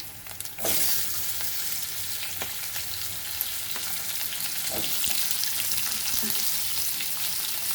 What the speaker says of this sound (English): Now we will add our onion and tomatoes.